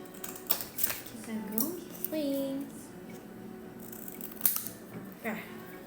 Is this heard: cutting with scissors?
yes